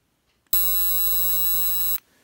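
A Zippo electric arc lighter gives off one steady, shrill, high-pitched buzz that lasts about a second and a half, close and loud, then cuts out to quiet.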